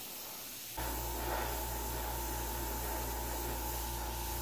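An airbrush starts hissing after a brief moment and sprays water-based paint in a steady, unbroken stream for RC work, with a low hum underneath.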